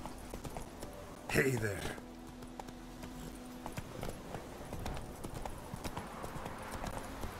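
Clip-clop hoofbeats of a horse running in The Witcher 3 video game, a short loud burst near the start and then steady lighter hooves under game sounds, with someone speaking briefly.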